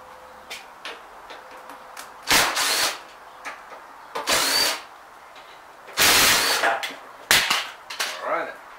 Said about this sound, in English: Now we're gonna remove those three bolts.